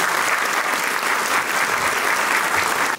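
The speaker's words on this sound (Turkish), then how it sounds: "Biz bu kıymetli ekibi ve bu organizasyona çok büyük katkıları olan Birgül Hanım Efendi'yi çok bir alkış istiyoruz yani" A concert audience in Düzce claps in dense, even applause that carries on without a break for a few seconds, then cuts off.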